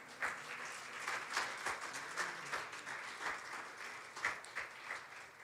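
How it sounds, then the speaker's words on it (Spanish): A church congregation applauds during a sermon, a sustained, even patter of many hands sounding somewhat distant and soft in the sanctuary, with a few louder clap accents. "Dele un aplauso al Señor,"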